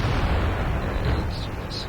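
A tank cannon firing in World of Tanks, a heavy, continuous roar of battle noise filling the whole short clip, loud and close, with no clear pauses.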